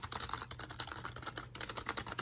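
Rapid, continuous clacking of keys on a Ducky One 2 Mini mechanical keyboard, loud and close, with a steady stream of sharp keystrokes and no talking.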